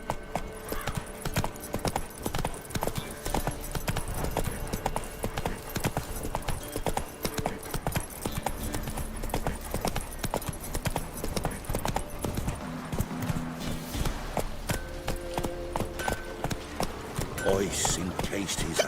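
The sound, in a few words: horse galloping in video game The Witcher 3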